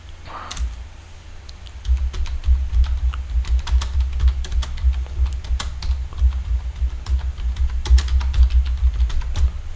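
Fingers type on a computer keyboard, a fast and irregular run of sharp, close key clicks with occasional louder taps, continuing without speech.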